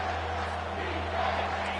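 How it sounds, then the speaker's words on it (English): A stadium crowd at a Tennessee football game swells into a dense, steady roar behind the defense on third down, filling the whole moment, with a voice talking over it. "Decibels rising as the crowd gets behind this defense on 3rd down"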